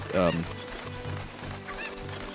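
Cucco chicken clucking in the Zelda: Ocarina of Time game, a short burst of squawking near the start followed by fainter clucks, with background game sounds.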